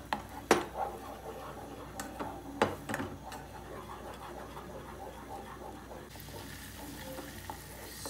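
Garlic sautéing in melted butter in a pan, a faint sizzle beneath several sharp clinks of a utensil against the pan and a few light taps, with quieter stirring later.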